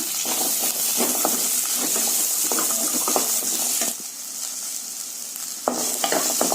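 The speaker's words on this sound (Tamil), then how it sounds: "உரிச்சு வச்ச வெங்காயத்தையும் அதையும் போட்டு நல்லா வதக்கிடணும்" Onions and garlic sauté in a hot pan for a poppy seed gravy, sizzling steadily while a spoon scrapes and stirs in repeated strokes. The sizzle drops briefly midway and then returns, close up and without talk.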